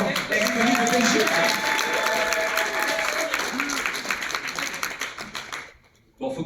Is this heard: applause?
yes